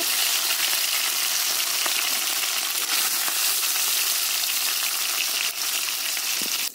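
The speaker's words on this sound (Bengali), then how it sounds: "চিকেনটা খুব ভালো করে ভাজা হয়ে গেছে, তুলে দেব।" Chicken pieces for chilli chicken fry in hot oil, giving a loud, dense, unbroken sizzle that holds steady the whole time before cutting off abruptly at the end.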